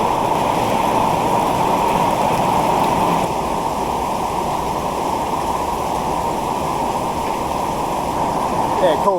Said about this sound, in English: when it rains in this part of the world, it really rains